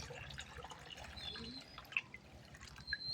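Faint drips of poured water fall into a cup in a quiet room, a few soft isolated plinks over a low hush.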